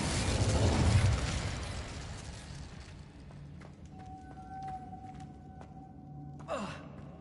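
A fiery burst from the Incendio spell in Hogwarts Legacy opens loud and rushing, then fades into a quieter hum with thin tonal whines and a brief whoosh near the end.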